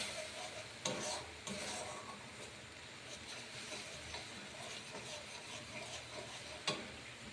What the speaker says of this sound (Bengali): অল্প অল্প করে জল দিয়ে মশলাটা ভালো করে কষিয়ে নেব।